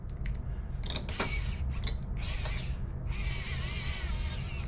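Small screws being tightened into a PS4 Pro console casing with a hand tool: a series of short ratcheting clicks and scratchy bursts over a low background hum, close and fairly quiet.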